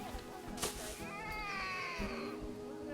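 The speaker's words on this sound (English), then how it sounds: "I heard the iconic baby cat sound" A baby Siberian tiger cub in the Planet Zoo game gives a single drawn-out, rising and falling mewing cry, clear and close, after a brief sharp tap, with no talking.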